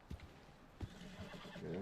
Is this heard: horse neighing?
yes